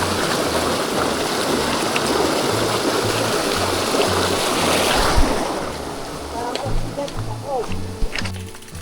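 A river flowing along a trail near Catalisid Falls in Norzagaray, Bulacan: a steady, loud wash of rushing water mixed with wind buffeting, and a few brief knocks and muffled sounds toward the end.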